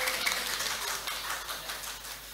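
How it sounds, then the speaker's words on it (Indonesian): Audience clapping at a cooperative's annual members' meeting in a community hall, a steady soft patter of many hands that stays fairly quiet and even throughout. "Tepuk tangan."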